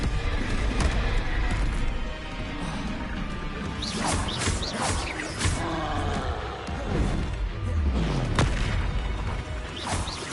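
Confringo, an explosive spell, cast repeatedly in Hogwarts Legacy: loud booming blasts with roaring, crashing bursts and rumbling debris, several sharp hits spread across the stretch, no voices.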